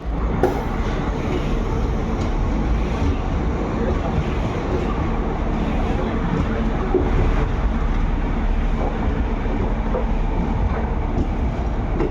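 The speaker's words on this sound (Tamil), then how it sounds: "பெங்களூர்லேருந்து டிபார்ச்சர் ஆயாச்சுங்க நம்ம ட்ரெயின்" Mysore–Sengottai special express train running on the rails, a loud continuous rumble with steady clatter and hiss from inside the moving carriage.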